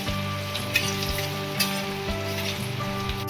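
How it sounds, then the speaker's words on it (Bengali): Onions sizzle and are stirred in a pan after cloves and cinnamon, a busy close frying hiss with a steady tonal hum running underneath. "এরপর দিয়ে দেবো এর মধ্যে পেঁয়াজ। এটা একটু নাড়াচাড়া করে নেব যতক্ষণ না ব্রাউন কালার আসছে।"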